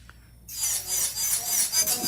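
Electric nail drill gliding lightly over a smooth acrylic nail surface during filing and ombre work, a steady close rasping whir that starts abruptly after a brief quiet moment and continues evenly with slight fluctuations.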